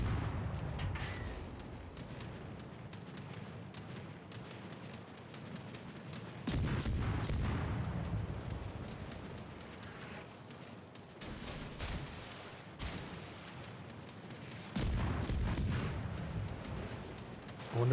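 Naval ship guns firing in World of Warships: Legends, several heavy booming salvos spaced across the stretch, each with a low rumbling tail, set against ongoing game noise.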